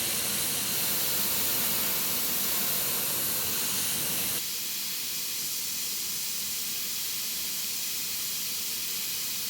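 An airbrush sprays red paint onto a fishing bait with a continuous close hiss that drops slightly in level partway through and carries on steadily to the end.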